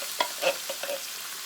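Ground beef and tomato sauce stirred in a pan, giving a soft steady sizzle with a few scraping spoon strokes at close range and no voices.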